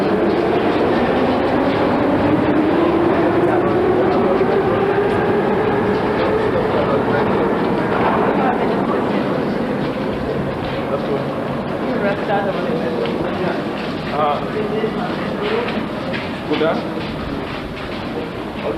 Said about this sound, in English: and that's the train.